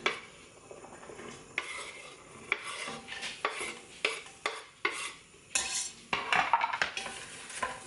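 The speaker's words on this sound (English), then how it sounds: "I'm going to add the onions to the pot." Diced onions tipped into olive oil in a pot and stirred, with a brief rising sizzle beneath repeated metal spoon scrapes and clatters against the pot, close and with no voices.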